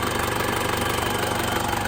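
Turbocharged 2001 Isuzu Panther LS Turbo diesel engine idling, a steady close rhythmic knocking clatter with a dense broadband rattle, heard alone.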